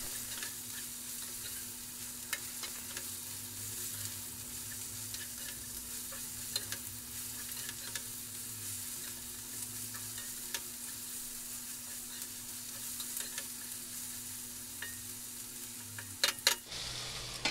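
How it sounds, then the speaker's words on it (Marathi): Stuffed okra (bhendi) frying in a pan makes a quiet, steady sizzle with occasional faint taps and clicks of stirring, and a brief louder clatter near the end. "सर्व आपल्याला एकदम व्यवस्थित मिक्स करून घ्यायचं आहे"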